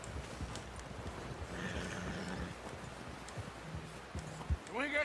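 Horse hooves clip-clop in Red Dead Redemption 2 over wind and ambient outdoor noise, faint and uneven, while voices talk over the scene.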